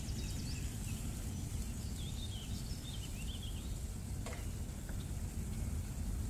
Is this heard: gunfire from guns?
no